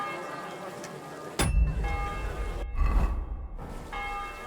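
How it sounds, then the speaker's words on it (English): In Kingdom Come: Deliverance 2, a church bell tolls for midday in a medieval town, its first strike landing suddenly and then ringing out loud and near with a second toll following, over soft background ambience. "Midday bell."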